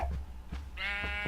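A sheep bleats in a blocky building video game, one drawn-out wavering bleat following a few faint clicks, heard alone without talk.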